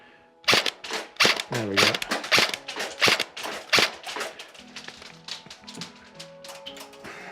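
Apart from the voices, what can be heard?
VFC Avalon Rapier M4 airsoft rifle firing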